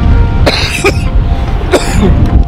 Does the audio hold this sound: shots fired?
no